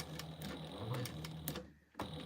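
Home sewing machine stitching a sling bag, a quiet steady run of fast needle clatter with regular ticks, stopping briefly near the end before starting up again.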